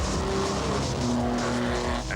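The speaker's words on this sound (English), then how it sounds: "Got a 4-litre engine under the bonnet, which produces 400 brake horsepower" TVR sports car with a 4-litre 400 bhp engine and glass fibre body driving hard, a loud continuous engine roar with tonal tyre squeal over about two seconds.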